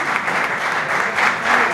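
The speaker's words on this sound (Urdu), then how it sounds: "تو بہت ساری تالیاں اور بہت سارا شکریہ" Loud, dense applause from a crowd fills a public assembly in Pakistan, a steady wash of many hands clapping together with no break.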